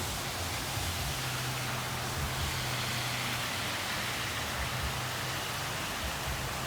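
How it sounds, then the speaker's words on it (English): Steady, even hiss of rain falling, continuous and fairly soft throughout, with a faint low hum underneath. "listening to the glorious rain falling from the heavens above"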